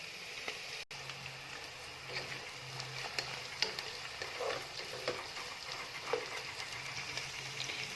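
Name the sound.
onions frying with ginger and garlic in a pan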